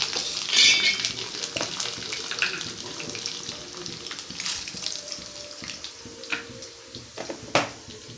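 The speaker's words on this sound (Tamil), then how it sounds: "நல்லா வதங்கட்டும். நல்லா கோல்டன் ப்ரௌன் கலர் வர வரைக்கும் வதக்கிக்குவோம்" Golden-browning sauté of ingredients for a dal thuvaiyal (pachadi) in a pan, a steady broadband sizzle with scraping stirs and clinks running throughout, fairly close and with no talk.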